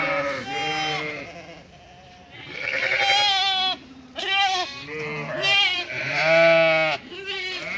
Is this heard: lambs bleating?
yes